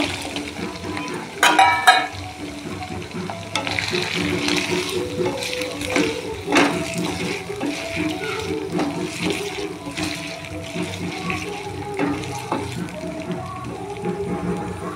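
Cut raw banana pieces tumble into a pan of fried spice paste, followed by clattering, stirring and a steady sizzle close by, with a few sharp utensil knocks against the pan.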